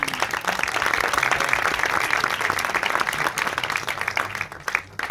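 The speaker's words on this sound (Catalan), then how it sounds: "un aplaudiment," A school audience of students applauds in a steady, dense wash of clapping that thins and breaks up near the end.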